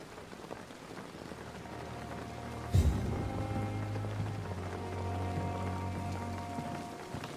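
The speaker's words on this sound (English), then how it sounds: "we're getting, well, wet, basically, 'cause it's raining" Steady rain patters in the game Vampyr, a continuous wash of falling drops under a low background hum, with one sharp louder hit partway through.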